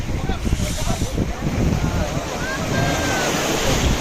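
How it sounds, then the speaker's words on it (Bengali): Strong high-tide ocean waves surge and break at Digha beach, a loud continuous wash of surf with heavy wind noise buffeting the microphone throughout. "সকালে জোয়ার কিন্তু প্রবল"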